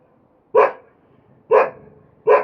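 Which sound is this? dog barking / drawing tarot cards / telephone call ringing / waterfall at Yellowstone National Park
dog barking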